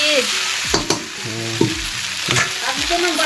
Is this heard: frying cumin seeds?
yes